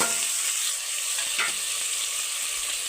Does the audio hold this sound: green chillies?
yes